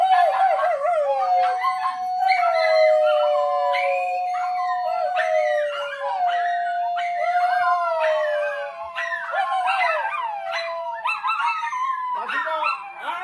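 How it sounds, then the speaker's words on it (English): Several dogs howl and yip together in a long, loud, wavering chorus close by, with rising and falling cries overlapping for many seconds. "these dogs is crazy"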